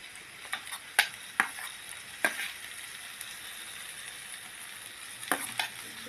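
Okra frying with chillies in a pan, a soft steady sizzle broken by several sharp scrapes and clinks as a spatula stirs it, with no one talking.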